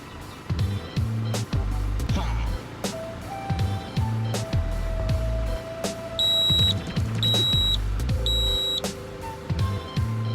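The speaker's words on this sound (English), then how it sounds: "The compressor is working and so is the water heater." A Handpresso 12-volt espresso machine runs its compressor and water heater, giving a rhythmic series of low pulsing thumps with short high electronic beeps scattered between them, fairly close and moderately loud.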